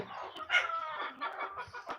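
Chickens on a poultry farm cluck and chatter continuously, a busy overlapping flock sound at moderate distance with no voices.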